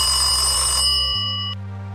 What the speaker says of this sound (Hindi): जल्दी से घर जाकर अपने भाई राम को फोन करता है।